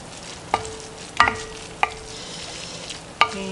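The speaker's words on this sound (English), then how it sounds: "So we're going to stir this in." A spoon scrapes and knocks against a Dutch oven four times at uneven intervals over a low background sizzle, each stroke a short, bright clatter.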